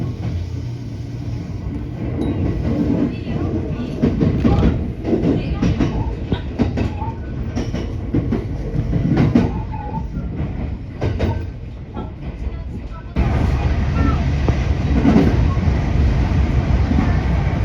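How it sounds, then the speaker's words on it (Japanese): A local commuter train runs on the inner line toward Yamashina, a continuous interior rumble with rhythmic clickety-clack of wheels over rail joints, growing louder near the end. "この電車は内側線を走っていますが"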